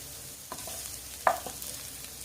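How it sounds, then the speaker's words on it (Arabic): Greens being turned and sautéed in a pan, giving a soft, steady sizzle broken by a few scraping stirs and one sharper clack of the utensil against the pan. "اقلب فيها لغاية ما تدبل وريحتها تبقى جميلة"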